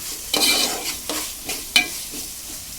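Drumstick pieces are stirred in hot oil with browned ingredients for a prawn curry, giving a crackling sizzle punctuated by four distinct spatula strokes against the pan, close and alone without speech.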